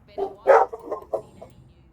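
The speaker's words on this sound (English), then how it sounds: "ignore my dog who's barking" A few short, sharp dog barks come in quick succession at moderate distance, with a faint background hum and no talking.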